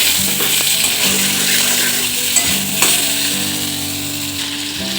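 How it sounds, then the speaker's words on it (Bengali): Cauliflower frying in oil for a Bengali shukto, giving a steady close sizzle with intermittent stirring scrapes and a few faint metallic clinks, no voices. "এরপর আমি তেলের মধ্যে ফুলকপি দিয়ে এটাকে কষিয়ে নেব"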